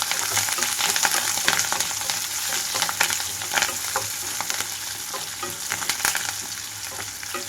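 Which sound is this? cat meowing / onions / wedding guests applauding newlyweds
onions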